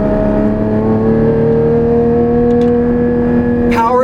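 Porsche 981 Cayman GT4 flat-six engine pulling steadily under acceleration while driving, a loud sustained drone holding a steady pitch, with a brief higher sweep near the end.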